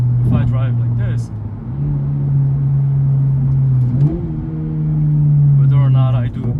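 A 2022 Subaru BRZ with a 2.4L engine and six-speed manual, heard from inside the cabin: a steady engine drone holds, dips, then climbs again as it accelerates, with a person talking over it.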